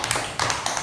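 Children clapping the 'tepuk fokus' rhythm at a preschool storytelling session, a few quick close claps in a short patterned burst.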